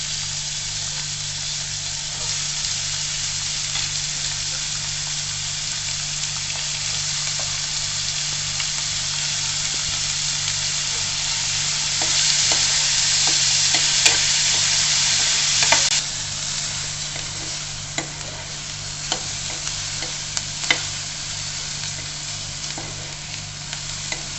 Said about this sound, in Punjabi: ਤੇਲ ਆਪਣਾ ਗਰਮ ਹੋ ਗਿਆ ਤੇ ਆ ਜਿਹੜੇ ਸੀਗੇ ਆਪਾਂ ਧੋ ਕੇ ਰੱਖੇ ਸੀਗੇ ਤੇ ਹੁਣ ਆਪਾਂ ਸਭ ਤੋਂ ਪਹਿਲਾਂ ਪਿਆਜ਼ ਭੁੰਨਾਂਗੇ